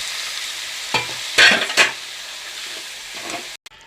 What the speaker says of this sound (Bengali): মশলাটার মধ্যে হলুদ, নুন, শুকনো লঙ্কার গুঁড়ো আর একটু জিরের গুঁড়ো দিয়ে ভালো করে কষিয়ে নেব।